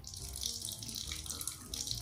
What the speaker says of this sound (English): Yeah, you see how the water works.